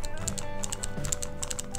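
An X-Man Tornado v2 3x3 speed cube being turned, giving a fast run of sharp, close clicks at an uneven rhythm, with no talk over them.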